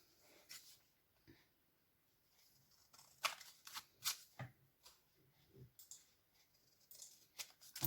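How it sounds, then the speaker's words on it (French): Scissors snip through paper to cut out a vintage tag, a series of sharp, close, faint clicks and cuts spaced irregularly amid near-silence. "Pareil, je trace et je coupe. Donc je vais venir couper."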